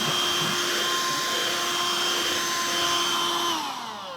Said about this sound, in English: I am going to use my dust buster and dust bust down here.